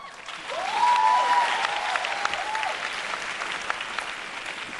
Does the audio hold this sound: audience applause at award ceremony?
yes